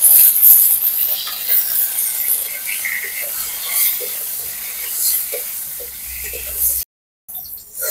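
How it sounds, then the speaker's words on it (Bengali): Pointed gourd (potol) frying in an oil pan, a steady close sizzle with faint stirring clinks, cut by a brief silent gap near the end. "এখন পটলগুলো ভেজে নেব।"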